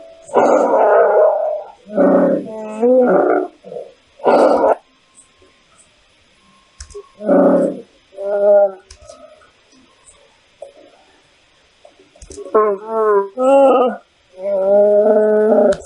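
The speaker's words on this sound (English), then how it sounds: "That growl sounded pretty threatening." A Wookiee growls and roars in Star Wars: Knights of the Old Republic, several loud, rough bursts with short gaps between them, alone and close.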